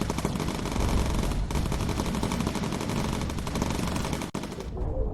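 Bomber gunners in the video game Bomber Crew fire sustained machine-gun bursts, a dense, loud rattle of rapid shots continuing almost without pause for several seconds, with a brief gap near the end.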